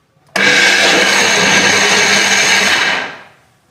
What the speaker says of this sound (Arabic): صافي نطحن كلشي